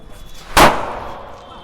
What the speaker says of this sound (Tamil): அதுக்கடுத்து ஒரு பேப்பர் வெடி வந்து வைக்க போகிறோம்.